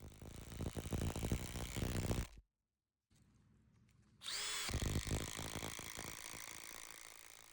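Parkside Performance PDSSAP D3 impact driver driving screws, loud rapid hammering and whirring for two seconds, a short silence, then another sustained burst of impacting nearby.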